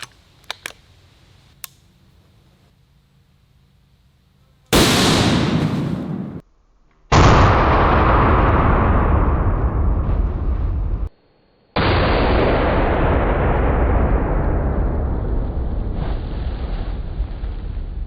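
Outdoors, a .50 BMG rifle fires at a wall of sandbags: a few faint clicks, then three loud, sharp booms spaced seconds apart, each with a long rolling echo tail.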